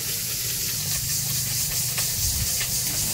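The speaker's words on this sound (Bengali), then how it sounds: "মাছ ভাজা হয়ে গেছে, কিছু নামাই নিল, আর বাকিগুলো ভাজতেছে।" Pabda fish frying in hot oil in a village kitchen, a steady bright sizzle and hiss running throughout without pause.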